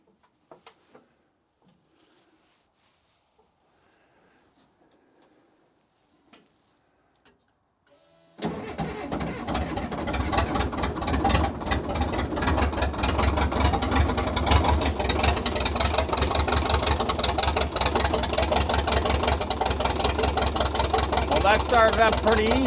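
A Caterpillar 922B loader's diesel engine, preheated on glow plugs, cranks and catches after a quiet stretch with a few faint knocks, then settles into a loud, steady, rumbling idle that continues to the end without talk.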